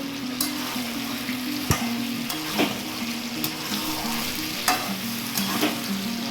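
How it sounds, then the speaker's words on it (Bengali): Potatoes being sautéed with mutton in a pan for a desi mutton curry: a steady sizzle and fry with repeated scraping and stirring clatters throughout, no voices. "যেহেতু আমি আলু দিয়ে মাংস রান্না করব, তাই এবার আমি এর মধ্যে আলুগুলো দিয়ে দিলাম, মাংসটার সঙ্গে কষে নেব।"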